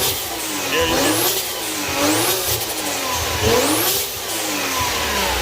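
Toyota 2JZ-GTE VVTi engine in a built GS300 revving repeatedly, each rise and fall in pitch close and loud, then settling back to a smooth idle.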